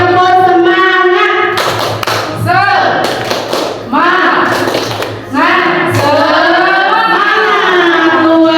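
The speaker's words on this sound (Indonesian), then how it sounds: "Baik, tepuk semangat." A group of teachers does a rhythmic cheer clap, bursts of patterned hand claps and thumps, loud and close, mixed with voices chanting along between the claps.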